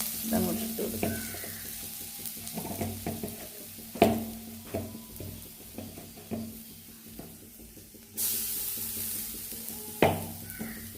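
Mustard seeds crackle and splutter in hot coconut oil while a Kerala-style sambar cheera thoran is being started. Irregular pops and a soft sizzle are heard close up, with occasional clinks of a utensil against the pan.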